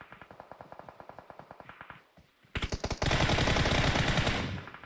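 Rapid automatic gunfire in PUBG Mobile, a steady burst of close shots, a brief pause, then louder, denser overlapping fire that fills the last two seconds.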